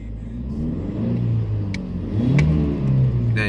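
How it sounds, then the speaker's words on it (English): A BMW E46 318ci M Sport with an intermittent battery light and limp-mode fault is revved, its mid-pitched engine note swelling and falling in a couple of surges with no voices. "So now I'm going to rev it."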